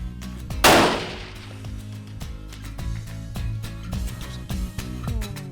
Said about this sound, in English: Longtime South Texas hunter Clay Vincent takes a big whitetail buck down a long sendero with a perfectly placed shot from his 300 Win Mag.